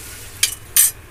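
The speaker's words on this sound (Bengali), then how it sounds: "আপনারা হাত দিয়েও করতে পারেন, আমি চামচ দিয়ে করছি।" Spoon stirring an onion and bread mixture in a bowl, two short close scraping strokes, brief and sharp, with no talk.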